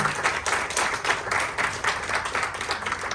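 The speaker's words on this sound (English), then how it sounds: "Let's give a round of applause to Dr. Lawrence who's here." A room of attendees at a professional speakers' association annual general meeting gives a round of applause for a guest, the clapping dense and continuous at moderate level.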